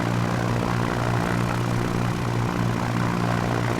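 A tail-dragger propeller plane engine in X-Plane 11 drones loudly and steadily, with a throbbing low hum and broad buzzing roar throughout, and no voices.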